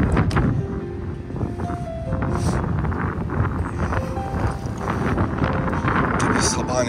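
Strong, cold wind in Amsterdam buffets the microphone with rough, continuous rumbling gusts. A voice speaks underneath, and faint tonal city sounds come through.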